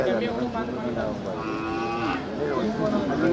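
Cattle low and moo at the Manapparai cattle market, a few overlapping bellows close by amid a busy background of market crowd noise.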